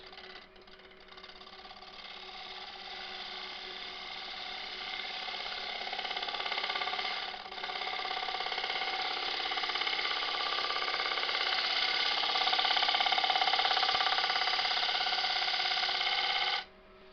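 A wood lathe shaping the top of a beech bowl, a steady loud whirring drone with a brief dip midway, running continuously for over fifteen seconds before cutting off, no talk.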